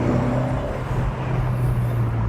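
A Fiat 124 Spider's 1.4-liter turbocharged four-cylinder engine hums in a steady, close, fairly loud drone for a couple of seconds, with no talking.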